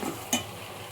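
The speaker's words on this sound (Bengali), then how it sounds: "দিয়ে মশলাগুলো ভালো করে কষিয়ে নিতে হবে।" Spices being sautéed in a pan for an ilish fish head and jackfruit dish, a soft low sizzle with one brief stirring clink near the start, quiet and close.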